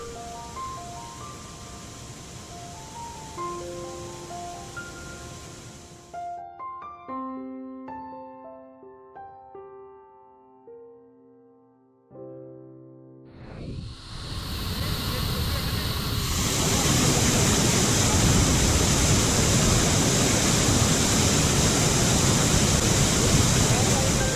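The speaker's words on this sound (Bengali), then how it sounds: "আমরা এখানে কিছুক্ষণ দাঁড়িয়ে ঝর্ণার সৌন্দর্য উপভোগ করি" Dawki waterfall in Meghalaya pours with a loud, continuous broadband roar that swells in after a stretch of tonal music and then holds steady and close.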